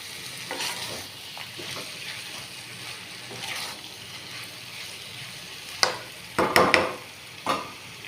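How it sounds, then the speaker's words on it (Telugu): Potato fry is stirred in a pan over a low, steady sizzle, with soft scraping early on and a burst of louder clattering spatula strokes near the end. "అడుగంటకుండా కలుపుకోవాలి"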